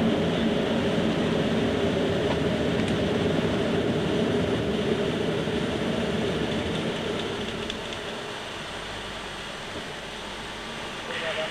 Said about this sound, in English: the sound level on the flight deck has decreased quite a lot. That airflow noise we were getting before has now diminished.